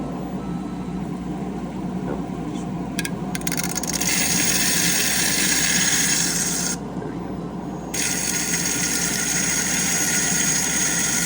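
Electrical discharge machining (EDM) machine burning at medium-high power, giving a continuous rasping, buzzing hiss over a low machine hum; the hiss swells louder midway, drops out briefly, then resumes steadily.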